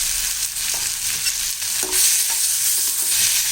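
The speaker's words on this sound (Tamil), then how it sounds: "இது எல்லாத்தையும் நல்லா வதக்கி விட்டுடலாம்." Tomatoes and onions being stirred and sautéed in a pan with turmeric and salt, a steady close sizzle running throughout under intermittent scraping strokes of a spoon, with no talking.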